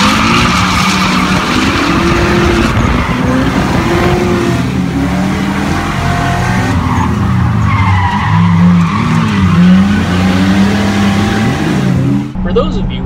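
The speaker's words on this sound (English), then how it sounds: "Drifting." A Nissan 300ZX (Z31) drifts with loud, sustained tire squeal over a revving engine, the screech holding almost unbroken and close throughout before cutting off at the end.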